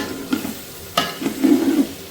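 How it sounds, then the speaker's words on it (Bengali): Rice for plain pulao is stirred and fried in a pan in a Bengali village kitchen, a run of close scraping stirs with a light sizzle underneath, the strokes growing busier toward the end, no voices. "চালটা দিয়ে দেওয়ার পরে কিন্তু খুবই ভালোভাবে নাড়তে হবে"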